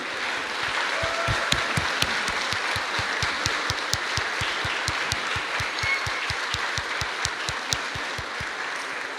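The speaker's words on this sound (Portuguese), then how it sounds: "saudemos com palmas nossas mães e a Virgem Maria" Congregation clapping during a Catholic Mass at a church in Lowell, Massachusetts, greeting mothers and the Virgin Mary; dense sustained applause filling the hall with one fairly close, steady rhythmic clapper standing out.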